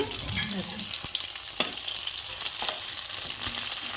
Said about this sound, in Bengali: প্রথমে দেখো এই যে মাছটা ভেজে নিচ্ছি